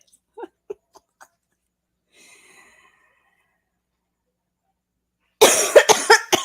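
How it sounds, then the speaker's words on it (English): Several short, sharp coughs from one person with pneumonia up close, a few scattered hacks followed by a louder burst of rapid coughing at the end. "Sorry for the cough."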